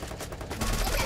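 Gunfire from the game Free Fire comes as rapid, dense bursts of shots that rattle on continuously at a fairly quiet level and grow a bit louder midway.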